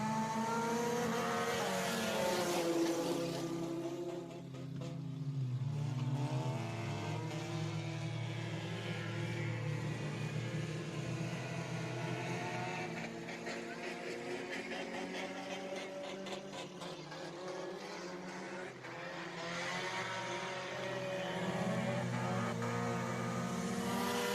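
Race cars lapping Deep South Speedway, a continuous layered engine roar with shifting pitches as cars approach, pass and accelerate, swelling and easing over time.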